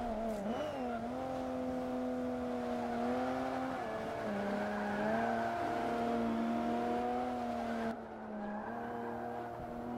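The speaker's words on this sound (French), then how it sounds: "Vous entendez les pneus? Ça crisse un max." Race car in Forza Motorsport 5 with a sustained, wavering tire squeal over the engine drone, sliding up and down in pitch through corners before easing off near the end.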